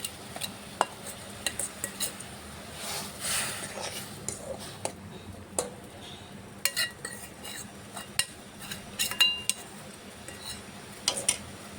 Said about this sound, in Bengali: জলটা সিদ্ধ হয়ে গেছে, এখন গুড়টা দিয়ে দেব।